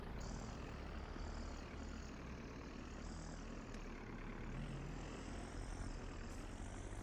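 A Massey Ferguson tractor works during hay baling, its engine drone steady and loud throughout with a constant low rumble and a higher whining tone, no talk heard.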